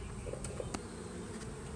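Honeybees buzz in a dense, steady drone inside a hive box under the inner cover, close up, with a few sharper individual buzzes passing over the constant hum.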